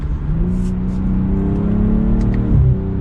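A 2023 BMW M340i in Sport Plus mode accelerates mildly from third gear, its engine note a steady, loud droning hum that rises slightly in pitch, then briefly shifts and settles near the end.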